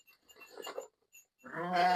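A sheep on a snowy winter farm bleats loudly near the end, after a faint, brief earlier call and quiet pauses.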